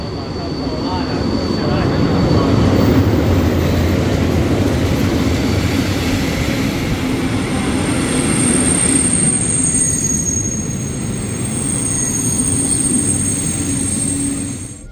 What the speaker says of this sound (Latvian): Jānofilmē, kā piebrauc vilciens.